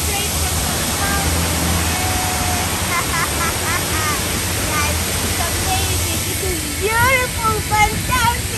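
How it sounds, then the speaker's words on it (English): Natural mountain water rushes steadily in a constant loud hiss close by at a resort in Fujairah, with faint whistling bird-like chirps scattered above it. "You can see the natural water and just straight from the mountains."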